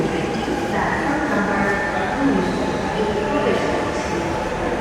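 An elevated metro train in Dhaka rumbles past overhead, heard from the street below the line as a continuous, fairly loud roar throughout, with voices mixed into the noise.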